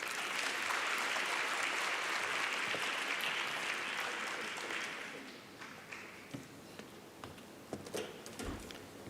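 A workshop audience applauds warmly for about five seconds, then the clapping thins to a few scattered claps and small room noises.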